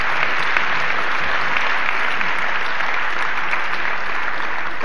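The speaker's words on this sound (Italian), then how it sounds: "Vorrei un grande applauso per Francesco Profumo, presidente della Fondazione Bruno Kessler." Dense, steady applause from a large lecture audience fills the whole stretch at a loud, even level, with no talking over it.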